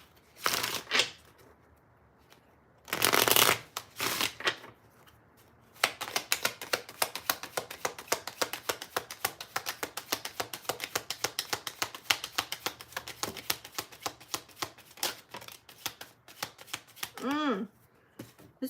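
Tarot cards are shuffled in quick riffling bursts, with a few louder splits early on and then a long run of dense, rapid flicking taps, close and fairly quiet.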